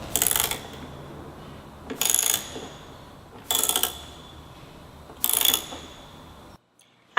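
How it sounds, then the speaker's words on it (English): A hand ratchet loosens the bolts holding a car's washer fluid tank, four short bursts of rapid clicking spaced about a second and a half apart, close and crisp, then near silence. "Now we're going to loosen the bolts securing the washer fluid tank."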